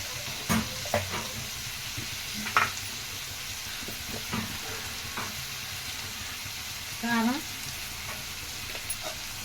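Salted mutton pulusu with turmeric being stirred in a pot, steady low sizzling and bubbling with several scraping stir strokes and clinks, with a brief voice or two in between.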